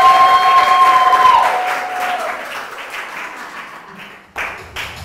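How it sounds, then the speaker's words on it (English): Studio audience applause at a game show, loud clapping at first with a few tonal notes over it, then tapering off and thinning out to scattered claps near the end. "Give yourselves a round of applause."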